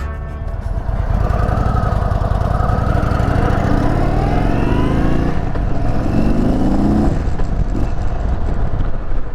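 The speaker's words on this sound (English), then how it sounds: "We are going to do a ride on this 116 Indian Chief." A 2022 Indian Super Chief Limited motorcycle with the 116 engine, heard while riding: a loud, steady, deep engine drone with wind noise and a shift in pitch partway through.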